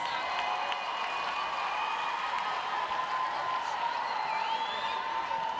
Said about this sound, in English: Botswana team are still making their way around and getting the applause from the crowd